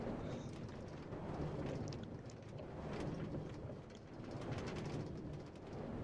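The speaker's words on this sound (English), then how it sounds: "And it's raining." Steady rain in Minecraft pours down with low rumbling swells like distant thunder, a continuous wash of sound with no voices.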